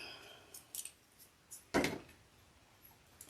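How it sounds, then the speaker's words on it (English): Sharp scissors cut a plastic tube for a solar birdbath fountain, giving a few quiet snips and then one louder, crisp cut, close up in a quiet room. "We're going to cut our tube here."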